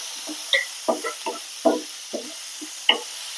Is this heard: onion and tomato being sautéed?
yes